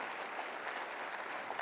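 Audience applause at a university association annual meeting, a faint, steady wash of clapping heard at a distance with no voices over it.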